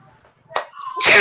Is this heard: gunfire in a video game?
no